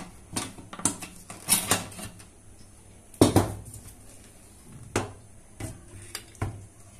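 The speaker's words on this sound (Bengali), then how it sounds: "তো এবার প্রেশার কুকারটা খুলে নিচ্ছি," A pressure cooker holding Chittagong mejbani-style beef is opened, producing a series of sharp metallic clanks and scrapes of lid and pot at irregular intervals, close and fairly loud against a quiet background.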